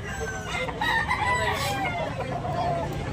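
A rooster crows amid a busy Cebu livestock market, its call rising clearly over steady crowd murmur and background chatter.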